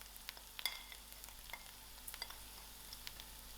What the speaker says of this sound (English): I'm going to give my masalas a good mix